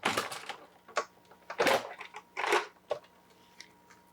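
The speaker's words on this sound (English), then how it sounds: "you want to run your dies through your die cutting machine" A die cutting machine presses metal dies through stamped cardstock for card making, giving a series of loud grinding, crunching passes with short pauses between them and a faint hum underneath.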